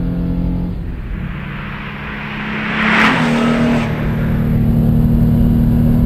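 A Renault Clio V6 phase 1 engine pulls hard and loud on a closed country road, its note building steadily as the car accelerates close by, with no talk over it.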